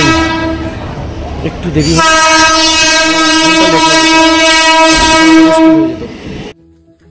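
Train pulling into a station, its loud sustained horn blaring for several seconds over rumbling wheels and track noise close by, with brief speech before the horn cuts off.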